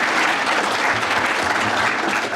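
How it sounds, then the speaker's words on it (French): An audience at a French departmental conference presentation gives a short burst of dense, even applause, loud and continuous with no voices over it. "on peut encore les applaudir"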